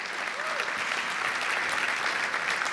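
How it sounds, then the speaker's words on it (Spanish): A church congregation breaks into sustained applause, a dense, even wash of clapping from many hands that fills the space for the whole stretch without pause. "Denle una ovación de palmas al Señor si quiere aplaudirlo"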